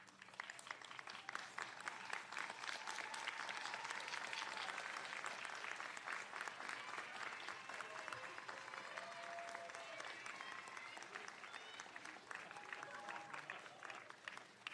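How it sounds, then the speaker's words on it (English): Sustained applause for graduates at an outdoor college commencement in front of the Eller Building at Dyersburg State, a broad crowd clapping steadily for about fifteen seconds, heard at a distance and fairly quiet. "give them a round of applause"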